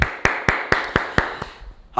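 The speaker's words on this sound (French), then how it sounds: "Et on s'applaudit." Group clapping in unison during a martial arts class, six sharp evenly spaced claps about a quarter second apart that fade at the end, close and without talk.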